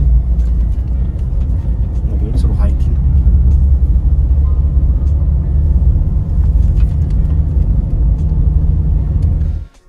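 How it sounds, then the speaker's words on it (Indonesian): A car climbing a steep mountain road in low gear, a loud steady engine rumble heard from inside with people talking over it, cutting off abruptly at the end. "Bener-bener definisi naik gunung pakai mobil."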